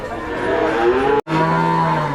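A calf bellows loudly at a cattle market in Hazratpur, Bangladesh, two long close moos separated by a brief cut, with no talk over them.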